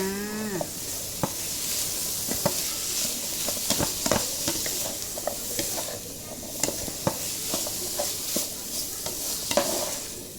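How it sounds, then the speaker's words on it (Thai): Tomatoes stir-fried with onions in a pan for a homemade lasagna sauce: a steady sizzle runs throughout, broken by frequent sharp scrapes and taps of a utensil against the pan. It is close and fairly loud, with no talking. "หลังจากนั้นก็เอามะเขือเทศ ลงไปผัดเลยจ้า"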